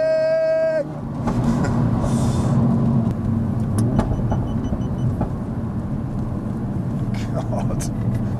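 A 520bhp Hendy Performance HP500 Ford Focus RS engine pulls hard, a loud, close, sustained drone that follows a brief high tone at the start and carries on with small bursts and pops throughout.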